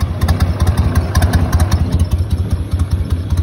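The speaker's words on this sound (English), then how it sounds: "Just got the motor started up." A boat motor idles steadily at the docks before a bowfishing trip, just after starting, with a close, even low throb that pulses evenly throughout and no talk over it.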